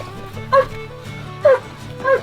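Border guard service dogs returning to duty give three short excited yelps or barks spaced about a second apart, close by, over a steady low hum and faint background talk.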